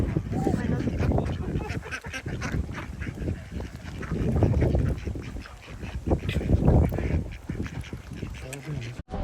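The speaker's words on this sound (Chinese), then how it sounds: "原来有人在喂鸭子哎" Ducks quack and geese honk as people feed them at a busy Sunday market spot in Richmond, Tasmania, with repeated calls close by under voices and crowd chatter.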